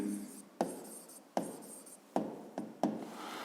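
Handwriting during a physics lesson: a series of scratchy pen strokes in short bursts roughly every half second to second, close and fairly quiet, with no talking.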